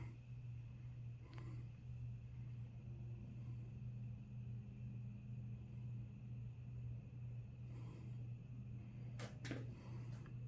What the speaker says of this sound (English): It's cranking out more air on medium.